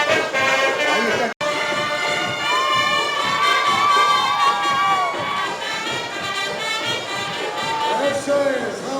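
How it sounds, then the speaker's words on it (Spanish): Bolivian residents shout the Waka Waka dance cry as a loud, continuous crowd roar, mixed with cheering and children's shrieks during a 2014 folk dance event, with voices talking throughout. "Es el grito de los Waka Waka."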